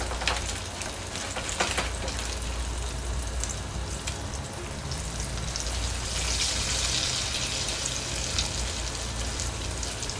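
Salmon patties fry in hot oil in a skillet over medium-low heat, a steady close crackling sizzle with scattered pops throughout.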